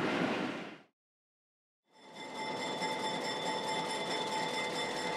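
A White Pass & Yukon train at Carcross, Yukon, pulls off the siding toward the depot: a loud burst of broadband rumble cuts off into a second of silence, then a steady, sustained hum with strong tonal lines settles in nearby.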